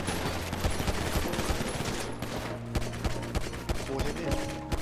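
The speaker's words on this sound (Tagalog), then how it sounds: "Ang sakit ng baril dito." Rapid bursts of gunfire in a video game, loud and close, firing in quick repeated volleys against a steady tonal background.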